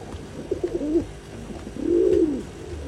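Pigeons offered for sale in Bangalore coo close by, with two rounded, throaty calls: a short broken run near the start and a longer swelling coo near the middle, over low background murmur.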